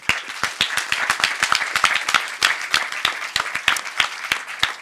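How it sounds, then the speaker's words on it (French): A small audience at a film festival closing ceremony claps, sparse individual hand claps ringing out distinctly in an irregular but steady patter, fairly close and unaccompanied by talk. "Qu'on peut applaudir"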